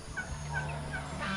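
Fowl call out in short, warbling gobble-like bursts close by over a steady low background; identified as ducks on a farm plot beside a spring. No talking.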